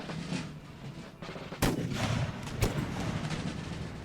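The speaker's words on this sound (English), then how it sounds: "So we get a lot of cannon shots going into all the mob troops that are out here." Cannon fire from sepoy troops on the walls of an Indian fort in the Empire: Total War strategy game, with two sharp booming blasts standing out over a steady din of distant battle gunfire.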